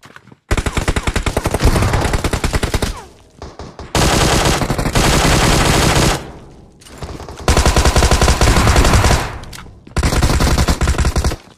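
An S12K shotgun fires in the PUBG Mobile video game in four long, rapid bursts of loud, close shots separated by brief pauses.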